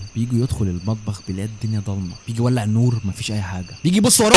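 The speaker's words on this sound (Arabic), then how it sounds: "في صوت صرصور الحقل كده في الخلفيه" Crickets chirp steadily in the background of a nighttime scene in an Egyptian horror film, a thin constant trill running under a man's continuous speech.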